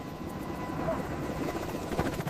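Helicopter rotor noise from a craft preparing to lift off with cargo, a steady broadband whir with a rhythmic thrum, moderately loud and continuous throughout with no clear speech.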